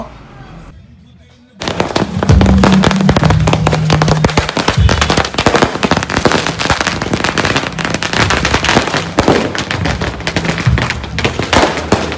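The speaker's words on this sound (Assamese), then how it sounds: "চাওক গাইজ, সকলোৱে ফটকা ফুটাব।" Firecrackers set off at a gathering, a loud, dense volley of crackling bangs that starts abruptly and rattles on continuously, with voices and cheering mixed underneath.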